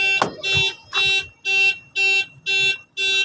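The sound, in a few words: car alarm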